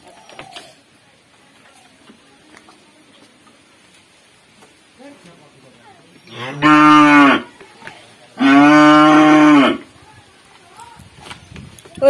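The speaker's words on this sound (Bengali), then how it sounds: "বাবা আসেনি বলে গরুটা ডাকছে।" A village cow lets out two long, loud moos, one after the other, with a short pause between them. Quiet farmyard background surrounds the calls, with faint distant sounds.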